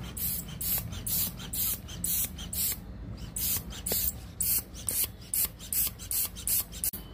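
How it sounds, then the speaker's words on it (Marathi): A hand pump puffs shimmer powder onto a cake in a home kitchen, giving rapid rhythmic hissing sprays in bursts, close and steady, one after another with brief gaps. "सर्व बाजूंनी व्यवस्थितपणे आपण पंप करून घेऊया, जेणेकरून ही शिमर पावडर सर्व केकवर एकसारखी लागली पाहिजे."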